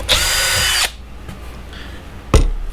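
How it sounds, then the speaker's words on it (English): A power drill pre-drills holes in a wooden cutting board: one loud whirring run of under a second stops abruptly, then after a quiet pause a second short burst of drilling begins. "So I'm going to pre-drill the holes"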